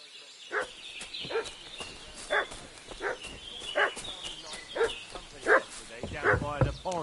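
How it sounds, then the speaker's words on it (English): Dog barking and yipping in the video game Kingdom Come: Deliverance II, a series of sharp repeated barks at close-to-mid distance, mixed with game voices and talk. "What's that dog making such a fuss about?"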